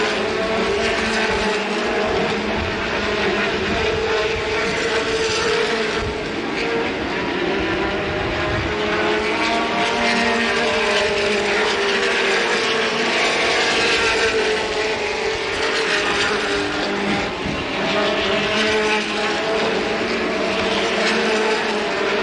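A pack of 1985 late model stock cars racing around a track, a continuous loud droning roar of multiple engines with shifting pitch as cars pass, sustained without pause, no voices.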